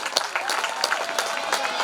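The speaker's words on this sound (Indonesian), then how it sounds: "kita berikan tepuk tangan kepada ketiga calon ketua OSDA kita" School audience applauding student council chair candidates at a debate, a dense patter of handclaps with a few sharper claps, fairly close and steady with no speech over it.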